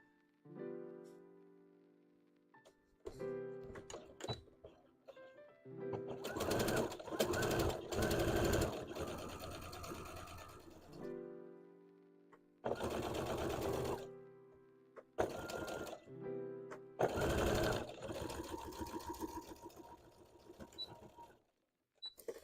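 Sewing machine stitching fabric for a Toothless dragon hat, running in several bursts of rapid mechanical whirring and clatter separated by pauses, close and fairly loud, with no speech.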